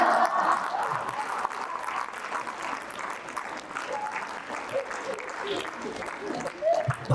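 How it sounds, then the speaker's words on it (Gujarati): Audience applause at the Saraswati Sanman & Panji Dharohar event, steady clapping from a large seated crowd lasting several seconds, fading slightly toward the end. "આગળની 10 રો વાળા તાળીઓ પાડી રહ્યા છે"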